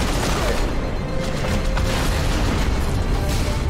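Grenade blasts in the Halo video game, played as the Arbiter, form a dense, loud, continuous wash of bursts and booms amid mechanical clatter, with no clear gaps between them.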